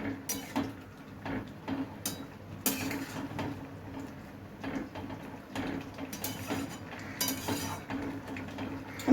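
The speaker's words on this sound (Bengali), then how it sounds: "এবার এইটা দিয়ে নাড়িয়ে আমি গ্যাসটা বন্ধ করে দেবো পুরোটা মিশিয়ে দেবো আমি" A spoon scrapes and clinks against a pan while stirring a ridge gourd, potato and fenugreek curry on a gas stove. The clatter comes in close, irregular bursts, with no talking.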